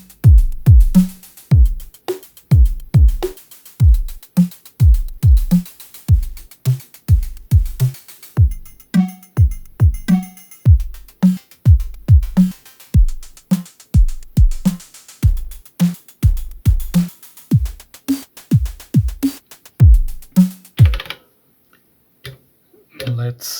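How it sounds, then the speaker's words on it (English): Punchy electronic drum pattern from an Elektron Digitone synthesizer, with deep kicks and crisp clicky hits in a steady groove, looping for about twenty seconds before cutting to silence. "this is a tutorial on how to make drums on the Digitone"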